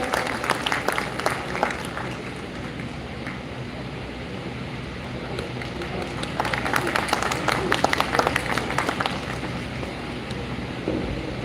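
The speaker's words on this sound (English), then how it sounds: "Please raise your hands and applaud him." Audience applause at the inauguration ceremony of a law fest, a steady wash of clapping from a crowd that swells louder near the end, heard over a hall's background noise.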